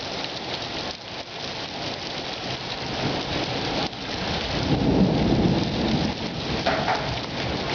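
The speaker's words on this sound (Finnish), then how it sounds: "Kauhea ukkonen tulee." Heavy rain pours steadily in Palosaari, Vaasa, Finland, while deep thunder rumbles roll in and swell beneath it, growing louder toward the end.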